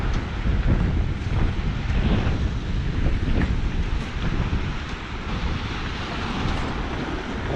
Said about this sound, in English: A little bit windy, but not too bad.